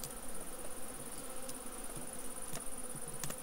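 Bees buzz steadily around a hive in a heather-foraging apiary, a continuous near drone with a few louder individual passes close by and no talking.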